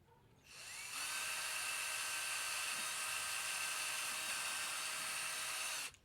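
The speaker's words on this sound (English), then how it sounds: "So I'm gonna first drill the holes for those clamps to go into." A small drill bores holes for clamps in a craft project, whining at a high, steady pitch for about five seconds after a quick spin-up, then stopping abruptly, loud and close with no talk.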